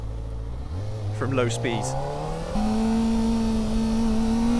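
A 2024 Kawasaki Ninja ZX-4RR motorcycle accelerating hard in first gear from low speed, engine pitch rising quickly then settling into a steady high whine, with a rider talking over it.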